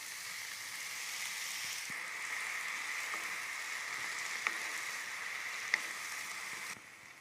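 Tomato and spinach fry in a pan with salt, making a soft, even sizzle with a couple of faint clicks that drops away near the end.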